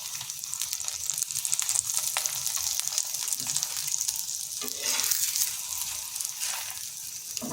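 Paratha frying in oil on a pan over medium heat, a steady close sizzle and crackle with brief bursts of louder spitting, no voices.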